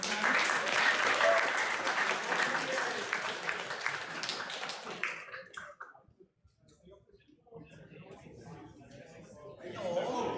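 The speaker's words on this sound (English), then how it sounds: "please one more round of applause for our great dream show" A student society meeting gives a round of applause, a dense clatter of clapping that lasts about five seconds and then fades into a quiet room with scattered coughs and clicks before murmured talk resumes.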